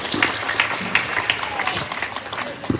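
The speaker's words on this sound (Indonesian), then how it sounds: "Nggih tepuk tangan riyen luar biasa niki." Audience applause at an Islamic gathering, moderate, somewhat uneven clapping from a crowd with scattered voices mixed in.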